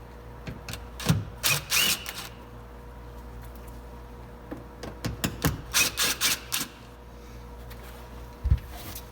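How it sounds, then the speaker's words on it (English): Bolts being removed from a Honda Pilot roof antenna with an 8mm socket or Phillips screwdriver, heard as short clustered ratcheting clicks in several bursts, close and fairly faint, with no talk. "you can use a 8mm socket or a Phillips screwdriver to take out these"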